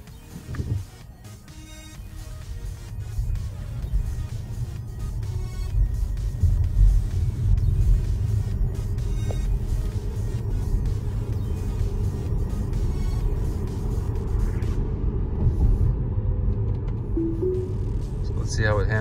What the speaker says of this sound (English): We'll come up here and get on the freeway